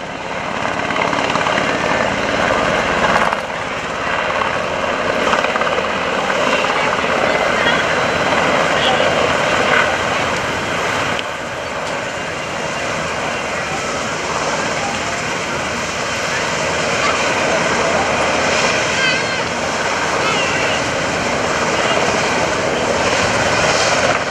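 Military aircraft and helicopters fly a Fleet Air Power demonstration at the 2015 NAS Oceana airshow, a loud, continuous roar of rotors and engines that fills the whole stretch, with voices talking underneath.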